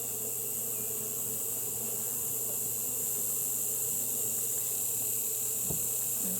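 Honeybees fanning in an opened hive make a dense, continuous buzzing hum that stays steady and close throughout, with no talking.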